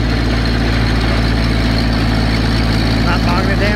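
A garden tiller engine runs steadily while churning wet dirt, a loud continuous low drone with a faint higher whine on top, holding an even pace throughout.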